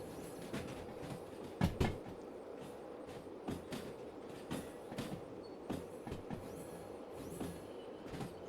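A freight train in the Derail Valley simulator coasts along the rails with the throttle off, giving a steady rolling rumble punctuated by irregular clickety-clack wheel thumps and faint squeals.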